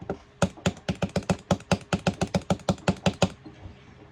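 Crisp SayoDevice keypad key clicks tap out in a quick, fairly even run of about two dozen presses, close up, with no talking.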